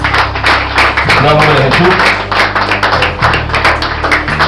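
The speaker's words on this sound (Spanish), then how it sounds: "Vamos a dar otro aplauso al Señor." A church congregation applauds the Lord in a busy patter of claps, while someone speaks over it and music plays underneath.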